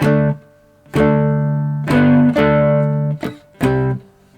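A plucked, twangy three-string cigar box guitar riff with sharp attacks and ringing notes, played close up in a loose rhythm of about six strums.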